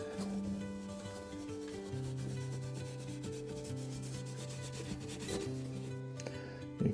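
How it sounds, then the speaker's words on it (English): Close, continuous rubbing comes from a cloth polishing an acoustic guitar body, a soft steady swish that rises and falls with each stroke and has no talk over it. "give this a little more polishing in again"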